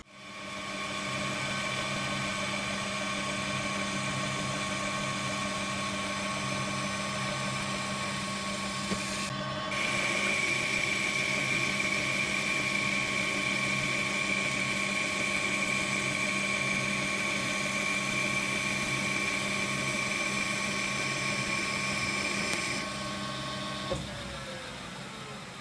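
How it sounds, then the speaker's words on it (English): Metal lathe taking a boring cut with a boring bar inside a steel preload spacer for a rotating tailstock chuck, a steady whining machine drone with a high tonal ring that shifts partway through and ends near the close. "I'll draw them out and bring them to size with a boring bar."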